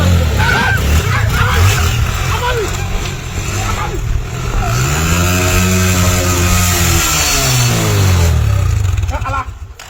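A man mimics a motorcycle engine with his voice, a buzzing vocal drone that rises and falls like revving and gear shifts, loud and close, with some speech mixed in at the start.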